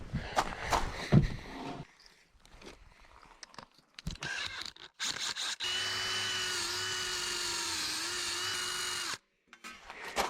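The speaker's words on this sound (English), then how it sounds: "Now let's take the rust off of it with a wire wheel." A wire wheel on a power tool strips rust from an old bicycle. It gives scraping, grinding bursts, then a sustained loud whirring drone of several seconds that stops abruptly, close and without talk.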